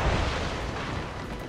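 Ship mortar fire in Assassin's Creed Rogue, a heavy booming roar of explosions during a naval battle, loud and continuous across the short span.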